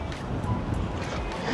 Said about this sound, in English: The wind is winning today.